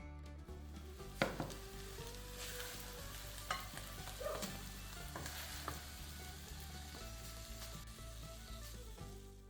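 Costela coxinha filling sizzles and fries in a pan while being stirred, a steady soft crackle broken by several sharp scrapes and clinks of the utensil against the pan.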